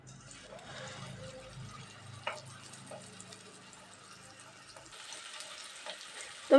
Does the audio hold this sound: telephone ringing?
no